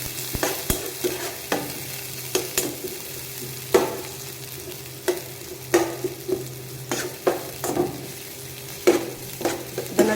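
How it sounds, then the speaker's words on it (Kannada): Onion and green chillies frying in a few spoons of oil for a cauliflower and potato dish, with a steady low sizzle under repeated sharp scrapes and taps of a spoon stirring the pan, close up, no voices. "ಹಾಕಿದ ನಂತರ ಚೆನ್ನಾಗಿ ಇದನ್ನು ಫ್ರೈ ಮಾಡ್ಕೊಳ್ಳಿ."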